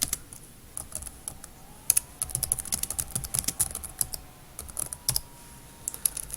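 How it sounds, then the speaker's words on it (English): Rapid, uneven clicking of keys on a computer keyboard, close and fairly quiet, in bursts with short pauses and no voices. "I really am having a difficult time typing today"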